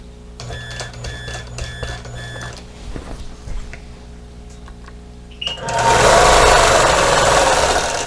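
A sewing machine stitches in the ditch around purple star points on a quilted star and tulips place mat, first with a steady mechanical whir under faint tones, then swelling into a loud, dense buzz of rapid stitching near the end.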